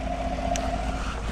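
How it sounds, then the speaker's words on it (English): A 2015 Chevrolet Silverado with the 5.3 engine, fresh off radiator hose and intake work, idles steadily at close range with a low, even hum and a faint steady whine, no voices. "All right, so got the engine running."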